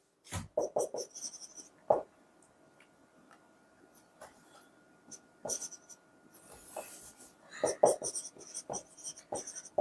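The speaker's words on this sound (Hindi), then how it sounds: "चलो मैं लिख देता हूं, देयर इज मोर फ्रिक्वेंट, मैं लिख देता हूं" Chalk or marker writing on a board during a chemistry lecture on collision theory: scattered sharp taps and scratchy strokes in irregular bursts, close and clear, with no talking over them.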